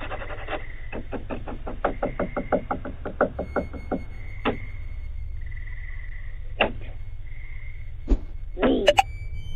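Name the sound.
scratching and knocking sounds in a ghost video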